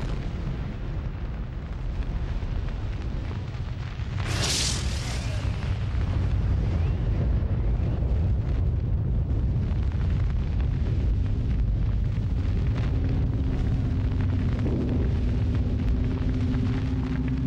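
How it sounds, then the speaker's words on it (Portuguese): A nuclear bomb test explosion watched by soldiers in trenches: a sharp blast crack followed by a long, continuous low roar and rumble that stays loud throughout. "a explosão passaria por sobre a cabeça deles"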